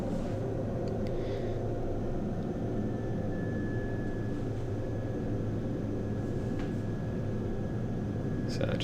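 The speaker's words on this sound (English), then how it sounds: "So just going nice and slow, taxiing in here" A Pilatus PC-12 turboprop taxis slowly in to parking at an airport ramp, its steady engine drone continuous and close throughout, with a faint whine running along the top of the sound.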